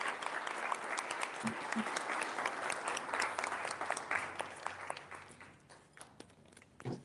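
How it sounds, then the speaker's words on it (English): An audience at a queer memory chorus performance claps to welcome a performer, a dense burst of applause that is loud at first and then thins into scattered claps, with a few cheers and voices mixed in. "Y'all clap it up."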